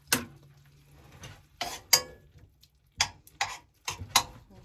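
A spoon stirs a tablespoon of butter into a Marsala sauce in a pan off the stove, giving sparse clinks and scrapes against the metal in an irregular rhythm, close and quiet, with no voices.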